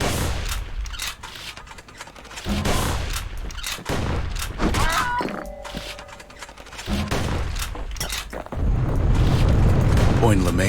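Gunfire from the video game Bastion: a series of loud, sharp shots and booming bursts in separate clusters, mixed with game sound effects and a narrator's voice speaking between them.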